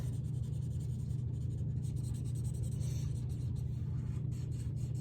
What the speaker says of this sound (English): I'm going to color brown leaf.